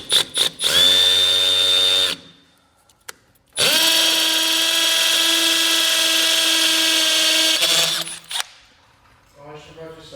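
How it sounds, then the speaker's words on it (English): A power drill bores a small pilot hole for a wall-mounted fan, whining loud and close in two long bursts separated by a brief pause, with faint chatter afterward. "So I'm going to do a pilot bit first, a small hole"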